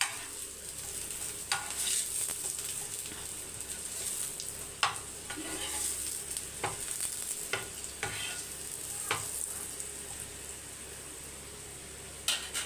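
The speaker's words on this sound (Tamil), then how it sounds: "இந்த பக்கம் நல்லா உருளைக்கிழங்கு ரோஸ்ட் ஆகி வந்துடுச்சு" Potatoes fry in a pan with a steady, close sizzle, broken by occasional sharp clicks and scrapes of a spatula against the pan.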